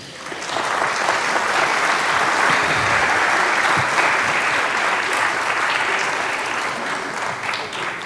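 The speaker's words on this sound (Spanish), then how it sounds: "Los recibimos por favor con un aplauso" Audience applause welcomes speakers at a presentation on a livestock screwworm control program, sustained, dense clapping that rises quickly and holds strong before tapering slightly.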